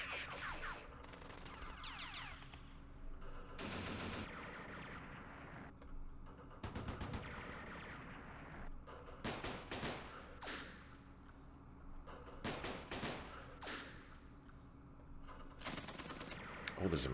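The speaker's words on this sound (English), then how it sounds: "Oh, there's a machine gun there" Several short, sharp bursts of machine gun fire in the wargame Campaign Series Vietnam at the 1968 battle of Khe Sanh village, scattered over a constant battlefield background with faint talk.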